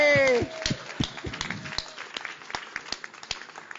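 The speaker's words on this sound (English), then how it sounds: "Can please join me in applauding our incredible panel for this evening." Applause for an evening panel breaks out after a brief cheer, with scattered, fairly sparse clapping close by that thins out over a few seconds.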